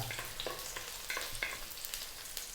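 Crushed garlic and whole peppercorns sizzle and crackle steadily in hot oil in a pan for a quail adobo, a dense continuous fry with sharper pops and stirring scrapes throughout, close and moderately loud, with no talking.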